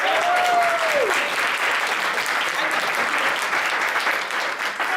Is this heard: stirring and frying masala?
no